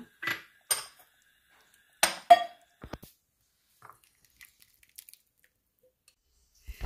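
Raw mango pappu is moved into a bowl with scattered close clinks and scrapes of metal utensils against dishware, separated by quiet gaps.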